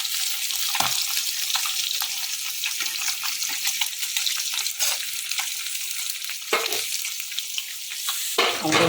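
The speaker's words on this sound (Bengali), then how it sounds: "আমাদের মাছ ভাজা এখন চলছে।" Fish frying in a pan gives off a loud, steady sizzle, with a few sharp clunks and scrapes from turning the pieces.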